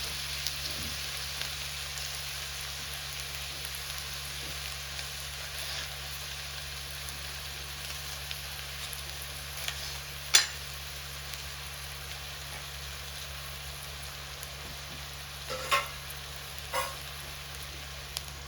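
Chicken curry sautés in a pan over a low flame, giving a quiet, steady sizzle with a few soft clicks and stirring knocks, and no talking.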